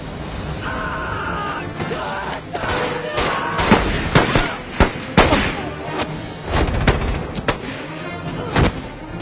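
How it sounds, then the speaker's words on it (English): Gunfire in a war-film firefight scene, with repeated loud shots and bursts cracking over a dense roar of battle noise and shouting. "In this opening scene, you're going to see a firefight going on."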